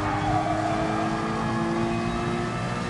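Race car engine from a PS4 racing game with a GR-class car, a steady close engine drone with shifting pitch as the car slows for a corner, no talking.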